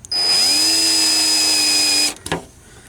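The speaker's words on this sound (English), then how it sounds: "I'm going to go ahead and pre-drill this hole, this size." A power drill pre-drilling a hole while installing rock lights on a Jeep Wrangler whirs loudly at a steady high pitch for about two seconds, then winds down and stops with a brief clatter.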